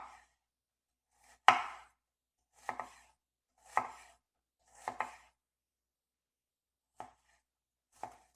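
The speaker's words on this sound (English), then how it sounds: "So let me just cut this onion." A very sharp knife from a premium kitchen knife set chops an onion on a board: six crisp, separate cuts spaced about a second apart, the first loudest, the last ones lighter, close and clear with no talking.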